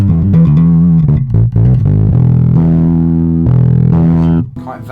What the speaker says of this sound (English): Quite valvey sounding distortion there if you use too much.